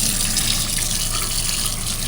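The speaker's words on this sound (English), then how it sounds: "We got the water running in. I'll let this fill in one more time, maybe about an inch or two." Water runs from a tap into a kitchen sink, a loud, steady gush of hiss and splash holding unbroken for the whole stretch, with no talking.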